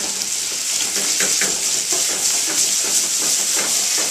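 Jack Daniel's whiskey poured into a hot pan with foie gras, giving a loud, continuous bright sizzle and hiss that holds steady throughout, close up and alone.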